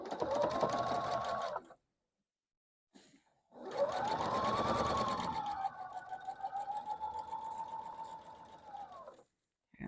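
A sewing machine chain-sews quilt blocks in bursts: a short run of stitching, a brief gap, then a longer steady run that eases off and stops, close and clear.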